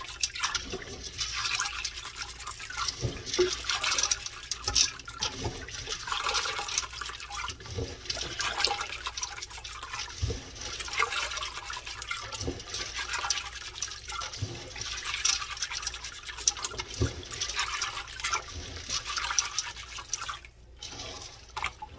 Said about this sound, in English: You just keep cleaning them until that water is clear.